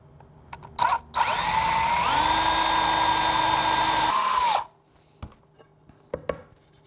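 A power drill bores holes through wood backed by scrap stock for a cigar box guitar, a loud steady whine lasting about three and a half seconds, with a pitch shift midway as the bit cuts through, framed by brief handling knocks.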